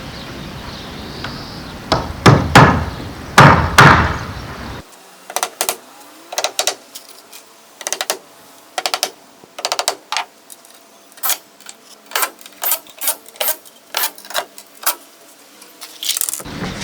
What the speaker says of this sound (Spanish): Solo me queda este por atornillar,